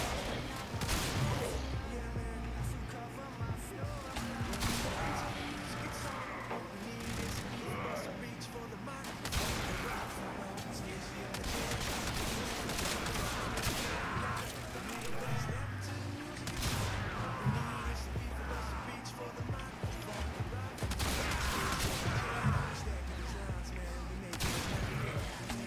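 Kitgun gunfire in a video game: dense, continuous bursts of shots and impacts that keep up for the whole stretch, loud and busy, with a voice talking over parts of it.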